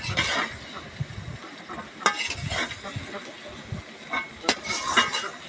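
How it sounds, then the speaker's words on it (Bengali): Tripe cooked with spices, onion and garlic is stirred in a pan, giving scraping strokes over a soft sizzle with occasional sharp clinks against the pan. A voice talks intermittently. "ভাজি ভাজি করবো, তো এই জন্য ভালো করে নাড়াচাড়া করে নিচ্ছি"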